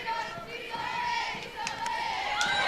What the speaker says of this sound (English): the crowd absolutely erupted uproariously,